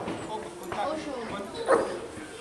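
Gendarmerie police dog barking in short yips during a canine unit demonstration, several quick barks over a noisy crowd with people talking nearby.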